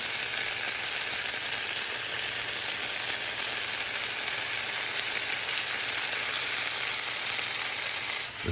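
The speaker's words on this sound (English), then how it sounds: "I'm stir frying it." Steady, loud sizzling of food frying in a hot pan, continuous and close, with no talking.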